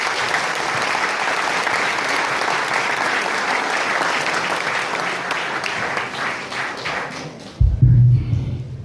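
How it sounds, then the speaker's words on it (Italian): A crowd at a launeddas festival in Sardinia applauds launeddas player Tonio Spiga, with dense steady clapping that fades out after about seven seconds, followed by a brief low thump and a voice starting to speak. "L'applauso per Tonio Spiga"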